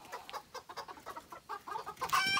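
Birds in an aviary, including a silver pheasant, give repeated clucking, fowl-like calls at close range, ending in a brighter, louder burst of chatter.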